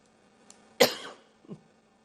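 A single sharp cough, close and fairly loud, followed by a smaller throat-clearing sound a moment later.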